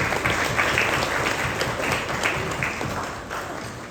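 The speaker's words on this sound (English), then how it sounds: "Huge round of applause for them as well." An audience at a program event gives a loud, full round of applause, a thick and continuous wash of many clapping hands that slowly tapers toward the end.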